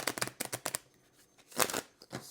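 Tarot and oracle cards shuffled by hand in two quick bursts of papery riffling, a rapid flurry at first, then a short pause and a second shorter shuffle, close and fairly clear.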